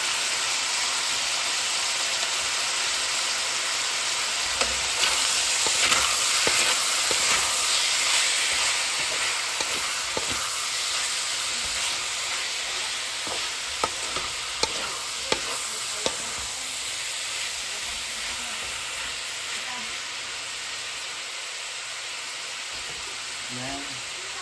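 Meat sautéing in a hot pan for adobong sitaw, a steady loud sizzle and hiss running throughout with occasional clinks and scrapes of stirring; a voice speaks over it at times.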